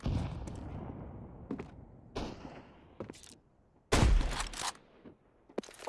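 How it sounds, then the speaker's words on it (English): Grenades and other utility thrown in the Counter-Strike video game, heard as a series of sharp bursts and impacts amid background game noise, with a loud blast near the middle and smaller pops around it. "Throwing a grenade."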